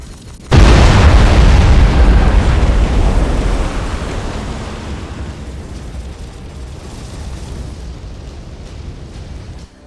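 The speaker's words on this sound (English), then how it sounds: "this particular barrage is not even necessary" A barrage of space-fleet explosions in the strategy game Battlefleet Gothic Armada 2 bursts in with a heavy sudden boom, then rolls on as a long rumbling roar that slowly fades.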